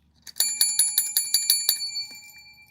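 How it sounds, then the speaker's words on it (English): A small bell rung in a quick series of about eight bright, evenly spaced dings, close and clear, then left to ring out and fade. "My bell rings for you guys."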